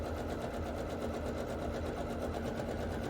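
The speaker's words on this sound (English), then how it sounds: "So we're at our machine right now, and we're going to be sewing a 1/4 inch around the entire circumference of both of the circles." A sewing machine runs steadily while stitching a quarter-inch seam around two fabric circles for a jewelry bag. The motor hum stays loud and continuous, close by, with no talking.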